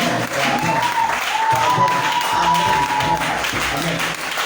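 Seminar congregation applauding steadily throughout, a dense, continuous wash of many hands clapping with a faint sustained tone and some voices mixed in the crowd.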